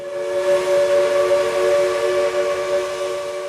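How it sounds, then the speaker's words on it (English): A steam whistle sounds one long, sustained chord, steady and fairly loud, with a slightly distant, open-air quality. "when you hear a steam whistle a mile away"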